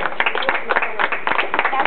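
Quick, bright hand clapping rings out at a baby's first birthday party, a steady patter of several people applauding together, close and lively, with voices mixed in.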